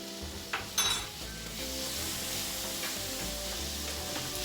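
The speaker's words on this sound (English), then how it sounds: "Just saute it a little bit to release the flavor before I add it into the sauce" Minced garlic sautés in a home kitchen pan as a lasagna sauce is made, a steady bright sizzle with a couple of clinks of a utensil against the pan near the start, and no voices.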